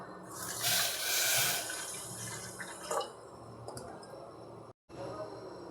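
Water is poured onto sugar in a steel pot, a close, splashing gush that swells for a couple of seconds, then gives way to softer drips and light clinks, with a brief cut near the end.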